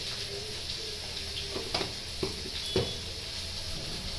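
Steady low sizzle of spices frying in a pan, with a few soft scrapes of a spoon stirring, no voices.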